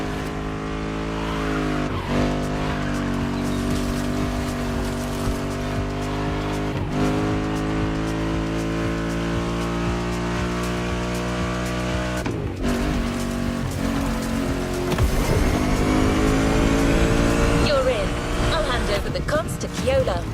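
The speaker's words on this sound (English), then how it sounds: "Good thing you're driving the 1969 Camaro Z28." A 1969 Camaro Z28 in The Crew Motorfest roars through steady high revs, with squealing tires and skids as it corners. Talk runs over the engine throughout.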